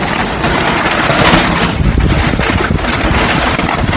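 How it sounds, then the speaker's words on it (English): Strong wind buffets the microphone at an outdoor rifle range, a continuous loud roar and rumble with gusty surges and no talking. "For that wind, that's really kicked up now."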